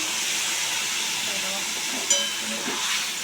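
Water is splashed into frying masala in a pan, producing a steady broadband steamy hiss with a brief sharp spurt partway through.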